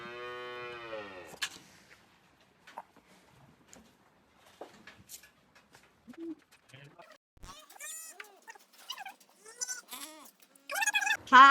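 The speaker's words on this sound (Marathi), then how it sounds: "हा मामाचा गोठा आहे. ह्या सगळ्या गाया" In a village cowshed, one cow gives a clear, close moo at the start, followed by scattered animal shuffles and a voice talking.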